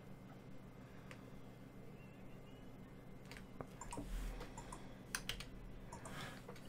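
Faint, quiet tapping of keys on a computer keyboard, irregular clicks over a low steady hum, with a slightly busier flurry of keystrokes toward the end.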